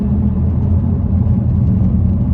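A Nissan GT-R engine rumbles loud and close from inside the car during a ride-along, a steady deep drone with slight fluctuations, without any speech over it.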